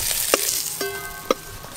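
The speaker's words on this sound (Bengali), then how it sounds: "তো হালকা করে চিংড়ি মাছ ভেজে নিয়েছি" Shrimp frying lightly in a pan give off a close, continuous sizzle, broken by two sharp metallic clinks of a utensil against the pan.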